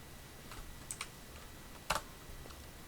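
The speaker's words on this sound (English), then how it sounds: "we're gonna have to type that in" Light typing on a computer keyboard, a few scattered soft key clicks with one sharper tap near the end, faint and close in a quiet room.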